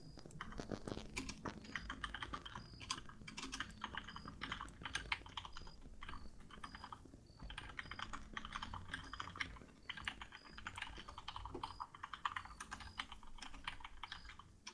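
Rapid computer keyboard typing in the tactical shooter ArmA 3, a steady run of close, crisp key clicks with brief pauses, no talking.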